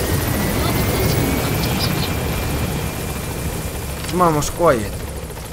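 A military helicopter in the game Metal Gear Solid V: The Phantom Pain drones steadily and loudly throughout, with brief voices speaking near the end.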